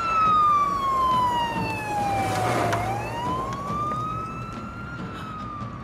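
A nearby ambulance siren wails in a long, sweeping tone that falls and then rises again, with traffic noise underneath and no talking.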